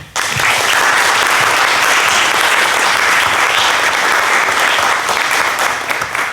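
An audience claps steadily to welcome two guest speakers at a curators' talk at the MFA Boston, a dense, loud, sustained applause that holds evenly for about six seconds before tapering slightly at the end.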